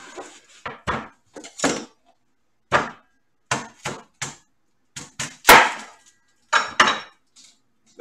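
A knife chops an onion on a cutting board, giving irregular, sharp knocks in small bursts separated by short silences, close and fairly loud with nothing else behind.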